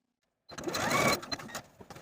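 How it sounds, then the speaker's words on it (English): A sewing machine stitches back and forth across overlapped elastic edges, starting abruptly after silence with a fast mechanical whirr, then stopping and starting in short, uneven bursts of stitching. "overlap the short edges of your elastic and stitch back and forth to secure"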